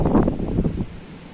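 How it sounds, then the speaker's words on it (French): Wind buffets and roars across the microphone in heavy gusts, loud and close, with no voices. "Il y a toujours un vent de taré."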